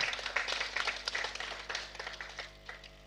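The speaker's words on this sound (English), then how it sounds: "A round of applause for him once again." An audience claps at a retirement celebration for a permanent secretary, giving moderately loud, steady applause from many hands that fades gradually toward the end.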